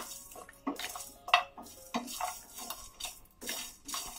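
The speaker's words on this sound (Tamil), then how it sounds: "இதை வந்து நீங்க மீடியம் ஃபிளேம்ல வச்சே வறுத்துக்கோங்க" Herbal tea powder ingredients dry roasting in a pan over a medium flame, with soft scraping and stirring strokes of a spoon against the metal, irregular light clinks and rustles, close and fairly quiet with no talking.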